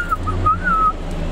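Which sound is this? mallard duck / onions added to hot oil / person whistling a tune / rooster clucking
person whistling a tune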